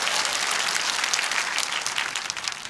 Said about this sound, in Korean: 큰 박수 좀 해주시기 바랍니다